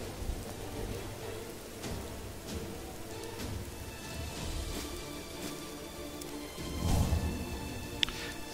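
Rain falling in the open world of the video game Morrowind, a soft continuous hiss of drops with low rumbling swells, faint and steady throughout, briefly louder near the end.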